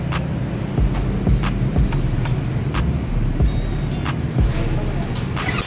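The fuel-injected Kawasaki Ninja 250 FI engine runs after being reassembled, a loud, close, continuous idle with a steady rumble and faint ticking.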